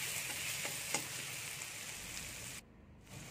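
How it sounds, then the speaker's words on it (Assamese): Sliced onions with garlic and ginger paste frying in hot oil, a steady close sizzle with a few stirring clicks that cuts out abruptly near the end. "পিঁয়াজখিনি অলপ দেৰি মানে 2 ছেকেণ্ডমান ভজাৰ পিছতে তাতে নহৰু আৰু আদাৰ পেষ্ট দি এইদৰে ৰঙচুৱাকৈ ভাজি ল'লোঁ।"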